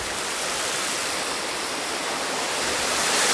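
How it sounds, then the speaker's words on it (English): Steady roaring rush of a waterfall at a resort pool near Orlando, Florida, dense broadband splashing that stays loud and continuous, growing slightly stronger toward the end. "Wonderful waterfall."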